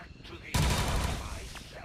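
Burst of gunfire from the turn-based strategy game XCOM 2, a loud dense volley erupting after a quiet moment and rumbling on with crackling decay for over a second, no talking.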